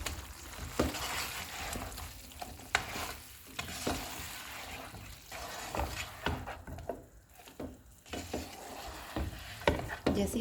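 Chicken pieces for saucy chicken lollipops fry and get stirred in a pan over a medium flame, a steady close sizzle broken by repeated scraping stir strokes throughout.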